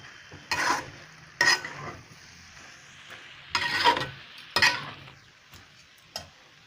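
Soybean curry being stirred in a pan with ghee, heard as several short scraping, sizzling bursts with quiet gaps between them and no talking.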